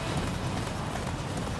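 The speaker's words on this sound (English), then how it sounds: "Go, horse." Horse hooves clip-clop at a steady gallop in the Attack on Titan 2 video game, a continuous rhythmic pounding that runs close and fairly loud for the whole moment.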